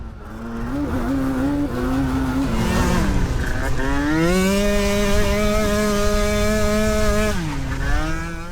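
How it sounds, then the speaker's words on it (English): Yamaha Banshee quad racing on a track with a hairpin and hill, its two-stroke engine screaming steadily through gear shifts and rising revs, loud and close with no talk. "That's lap 2 complete for Glen Phillips on board the Yamaha Banshee."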